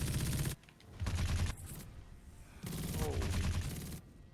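Dense bursts of rapid video game gunfire, loud and close, come in repeated waves with short quieter gaps between them, and a brief exclamation is heard.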